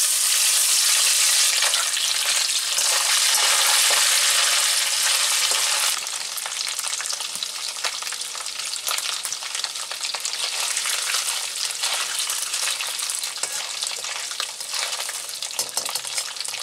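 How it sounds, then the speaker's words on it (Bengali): Coconut pieces frying in hot oil, a loud, dense and steady sizzle that carries on without pause, turning slightly softer partway through and staying close throughout. "এরপর আমি নারকেলটা ভেজে নিচ্ছি"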